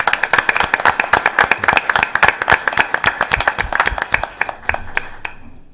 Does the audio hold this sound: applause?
yes